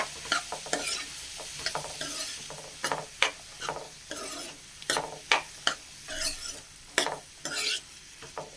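Cauliflower being stirred with turmeric in a hot pan, a series of sharp, rhythmic spatula scrapes and clacks over a soft steady sizzle, close and clear with no voices.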